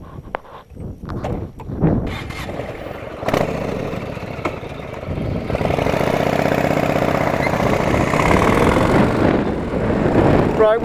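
A motorcycle engine climbs a hill in Cyprus, starting with scattered knocks and rising into a steady, loud running drone that grows nearer over the last several seconds.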